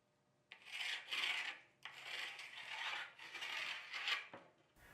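A pencil drawn along a straight edge over benchwork for a model railway layout, a dry scratchy rasp in three or four close strokes with short breaks between, near and clear with no talk.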